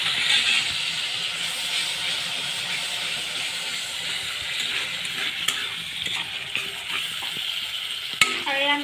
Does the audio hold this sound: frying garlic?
yes